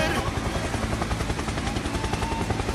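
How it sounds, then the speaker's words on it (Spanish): Helicopter in a video game, its dense rapid rotor chop pounding steadily and loud for nearly three seconds, mixed with gunfire-like bursts, then cutting off abruptly. "¡Helicóptero, helicóptero!"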